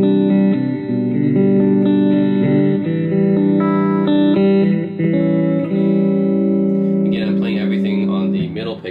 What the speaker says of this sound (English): I set the delay to 9 and the reverb to 10, so that's what you're hearing now